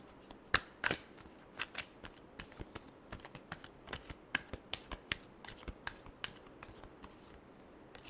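Tarot cards are shuffled in a series of quick crisp riffles and taps, irregular bursts close by with a louder pair near the start.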